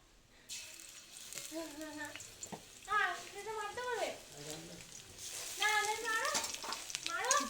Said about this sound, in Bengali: রসুনটাকে একটু ভেজে ভেজে নিয়েছি।